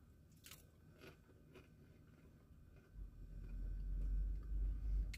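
Crunchy bites into battered cod from a traditional fish and chips shop, a few crisp crackles early on followed by louder chewing and crunching up close, with no talking.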